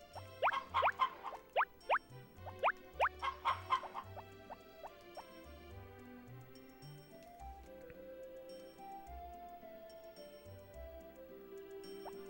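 Chickens clucking in the farming game Harvest Moon: Back to Nature, a quick burst of sharp clucks and pecking ticks in the first few seconds, then fading into a bouncy game melody with no talking.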